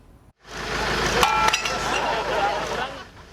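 Liquor bottles crunch and clink under a loud, continuous grinding rumble as they are crushed by rolling over them, starting abruptly and staying heavy to the end.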